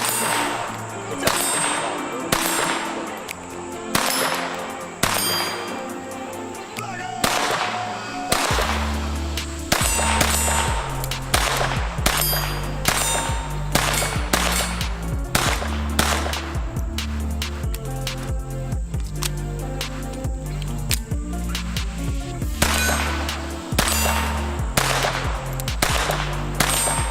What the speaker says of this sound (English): let's take a look at how it shoots without the suppressor